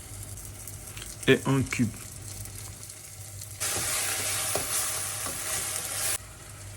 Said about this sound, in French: Je mélange bien et je laisse mijoter environ 5 minutes